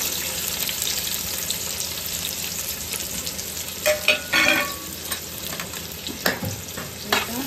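Roughly cut onion sautés in about four small spoons of hot oil for chicken biryani, giving a steady close sizzle with louder stirring scrapes and clinks midway and near the end.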